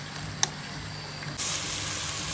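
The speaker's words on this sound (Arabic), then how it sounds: "هنشوح البصل بقى، مش هنخليها محمر قوي" Two medium finely chopped onions frying in a pan for a white bean dish, a soft low sizzle that swells abruptly into a loud, steady hiss partway through.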